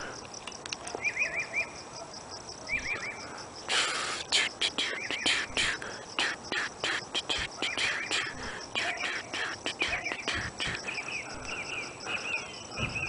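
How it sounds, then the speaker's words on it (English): Birds calling outdoors at night, short repeated chirping phrases fairly distant over a hum of insects, with a person whispering softly in between. "Hear the birds still."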